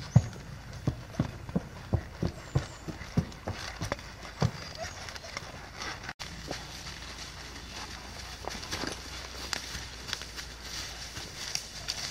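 Horses' hooves walking across a bridge on a wooded trail ride, a steady series of hollow clip-clop footfalls, moderately close, with soft rustling in the background.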